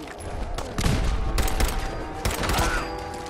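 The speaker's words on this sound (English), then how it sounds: "Somebody else is shooting at me?" Gunfire from another shooter in Fallout 4, several loud bursts of shots in quick volleys with echoing tails, separated by brief gaps.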